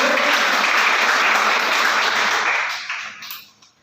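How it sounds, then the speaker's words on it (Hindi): A dense wash of applause from a seminar audience, steady and full, then thinning and fading out over the last second. "अब तालियां बजाएगा मीटिंग के लिए"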